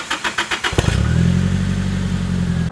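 A Nissan Silvia Spec R S15 with an aftermarket exhaust, starting with a series of sharp blips and then settling into a loud, deep, sustained rev held close to the microphone.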